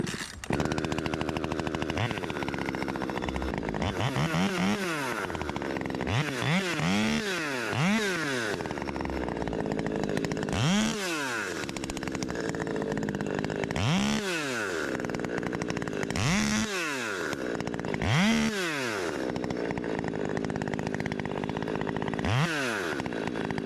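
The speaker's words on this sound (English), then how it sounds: "Let's stick this baby in some wood and see how it cuts." A 39cc top-handle chainsaw cuts through wood, its engine revving hard again and again in rising and falling surges, with bursts of idling between cuts, loud and close throughout.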